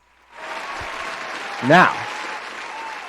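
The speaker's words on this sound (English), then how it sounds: "Applause sound effects." A sustained applause sound effect, steady throughout, with a short spoken word cutting in over the clapping.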